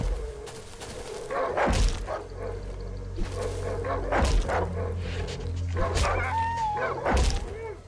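A dog barks and yips in the horror video game Darkwood, several sharp bursts spaced across the stretch over a low, droning game ambience.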